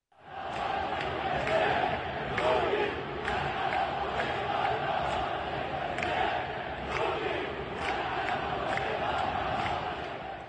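Large football crowd at a Baghdad stadium, a dense sustained roar of massed voices chanting with rhythmic accents throughout, loud and continuous with no pause.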